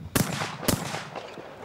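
A 12-gauge over-under shotgun fires at a skeet championship: two sharp reports roughly half a second apart, loud and close, each followed by a short echoing tail outdoors.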